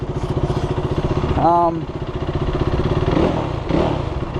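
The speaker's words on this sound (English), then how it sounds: "Yeah, so this is the Duke 390." A KTM Duke 390 single-cylinder motorcycle engine runs close by with a steady, rapid thumping pulse that rises and falls slightly. A brief voice cuts in over it.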